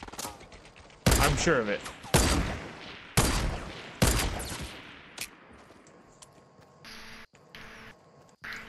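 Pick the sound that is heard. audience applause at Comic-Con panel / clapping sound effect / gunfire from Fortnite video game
gunfire from Fortnite video game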